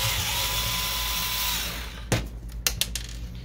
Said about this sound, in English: I'm gonna use a screwdriver for that.